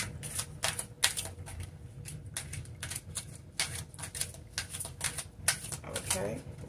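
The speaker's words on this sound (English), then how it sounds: "we're having a problem shuffling" Cards are riffled and shuffled in a series of quick crisp bursts, close by, with brief pauses between shuffles.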